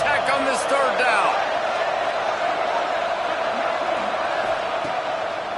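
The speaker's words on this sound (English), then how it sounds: "Guns up, and so is the noise. The crowd electric, trying to help Tech on this 3rd down." Football stadium crowd roaring on a third down, a dense sustained wall of cheering and shouting heard from within the stands, steady and loud throughout, with a few whistles or whoops on top early on.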